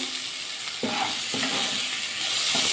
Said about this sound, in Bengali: অনেকটাই কিন্তু ভাজা হয়ে গেছে আলু গাজর মূলো।